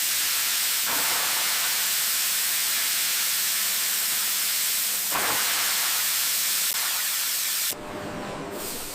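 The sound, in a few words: steam cleaning hiss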